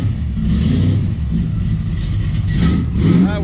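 A 1955 Chevy with a turbocharged LS engine runs close by on a road, its steady low engine drone rising into a rev near the end, loud and continuous throughout.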